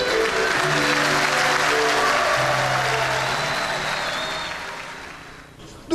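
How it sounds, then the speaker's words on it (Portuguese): Crowd applauding a newly sworn-in governor as he receives the governor's sash at an inauguration in Amazonas, Brazil; sustained steady clapping that slowly fades toward the end, with some voices mixed in. "Ao receber a faixa de governador, foi novamente aplaudido."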